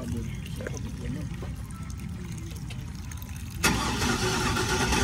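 A 2001 Chevy Silverado with a newly swapped fuel pump churns through a low, steady crank before the engine catches and roars up into a louder, fuller run near the end, heard close by.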